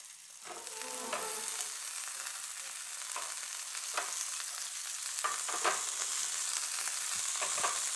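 Chopped hard vegetables stir-fried in a pan for masala pulao. Bright sizzling hisses steadily, broken by repeated scraping strokes of the spoon and growing slightly louder over time.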